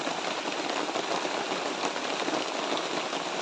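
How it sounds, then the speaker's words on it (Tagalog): Heavy rain pouring down in a dense, constant hiss, drumming steadily on surfaces nearby with no pauses. "Lakas ng ulan."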